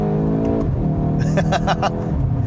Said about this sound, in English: It has some nice little pops and cracks from the exhaust